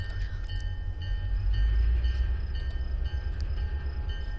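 A steam locomotive in the Train Simulator 2013 video game, on the Somerset and Dorset line at Bath Green Park, gives a steady, heavy low rumble with faint clanking and hiss throughout, no talk over it.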